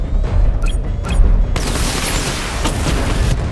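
A tank's missile barrage firing in the video game Batman: Arkham Knight, heard as a loud rumbling boom that swells into a dense, sustained blast, preceded by a few short mechanical clicks.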